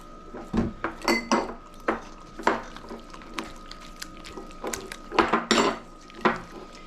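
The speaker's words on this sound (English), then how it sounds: "I just want to get those eggs whisked a little bit" Eggs being whisked by hand in a bowl, with a utensil knocking and clinking against the sides in uneven, quick bursts, close and fairly clear, no talking.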